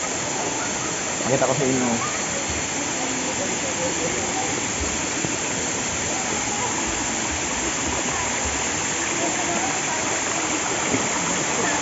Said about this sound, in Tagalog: dito sa Batlag Falls, merong dalawang falls dito.